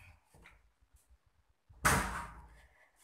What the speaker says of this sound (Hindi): मैं ज़रा दरवाज़ा बंद कर लूँ